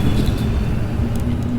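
Spaceship lifting off in Star Citizen, a loud dense rumble with a steady low tone and some broadband roar, sustained without change over a brief moment.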